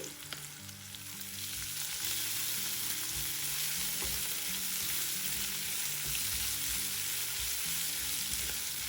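Onion frying in a pan with ginger-garlic paste, a sizzle that swells within the first second into a steady, loud hiss and crackle, heard up close with no talk.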